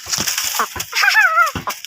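A chicken clucks and makes a drawn-out warbling call up close, a few short sharp clucks around it.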